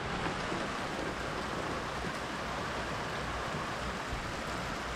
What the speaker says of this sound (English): It's Friday and it is still raining.